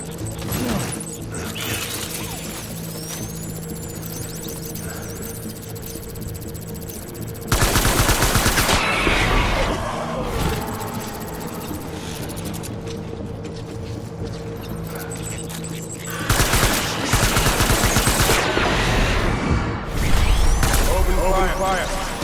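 Gunfire in the video game Death Stranding, with long loud bursts of rapid automatic fire cutting over a dense, rumbling battle soundscape, the heaviest volleys coming in several separate waves.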